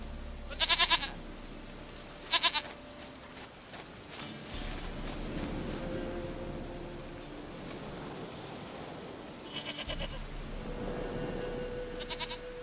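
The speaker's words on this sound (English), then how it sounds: "Goat of mine, dearest, sweetest goat." A goat in The Witcher 3 bleats in several short, wavering cries spread apart, heard over a steady game ambience with a low rumble and faint surf-like wash.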